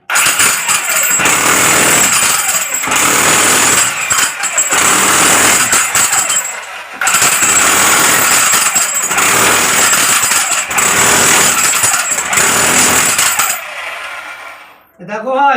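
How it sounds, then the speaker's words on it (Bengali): A large chipping machine hammers at a room's walls or ceiling before plastering, a loud, harsh, continuous rattling that runs in long bursts with short pauses, close by, with someone speaking briefly near the end. "কত বড় মেশিন নিয়ে চিপিং করছি, ঠিক আছে?"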